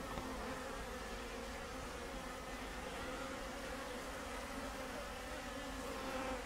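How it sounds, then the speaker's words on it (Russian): Honeybees fly around a hive on a mild February day, a continuous, even buzzing hum of many insects with no voices. "И пчелы активнее будут летать."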